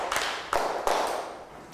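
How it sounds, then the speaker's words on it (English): Three sharp hand claps by a teacher in a primary classroom, evenly spaced and close, each a crisp broadband snap with faint room tail. "You can hear me clap four times."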